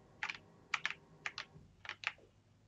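Computer keyboard keys tapped to steer a tank in a Unity 2D game, four quick pairs of crisp close clicks spaced about half a second apart, quiet and alone.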